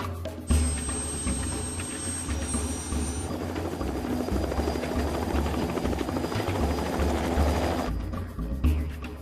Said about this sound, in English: I'm getting to Uluru by helicopter